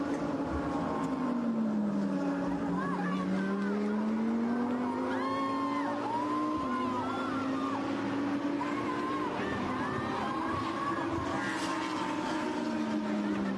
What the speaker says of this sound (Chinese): 是超过了有朋 Racing 这台战损的赛车